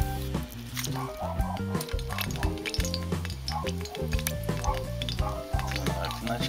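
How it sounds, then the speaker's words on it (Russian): Vegetable oil hits a hot frying pan on a lit stove and sizzles, a continuous close crackling hiss with wet popping, mixed with busy kitchen sounds and a voice. "Заливаю растительное масло."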